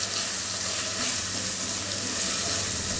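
Ground spices including black pepper and garam masala fry and get stirred in a pan for a Sri Lankan beef curry, producing a loud, dense, continuous sizzle at close range with no voices.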